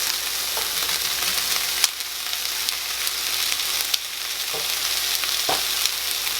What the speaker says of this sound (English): And then we'll add in our sun-dried tomatoes.